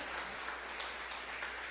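A church congregation claps their hands, a steady, dense wash of applause that runs throughout without pauses.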